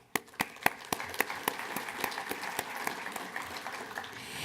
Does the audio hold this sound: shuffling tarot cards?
no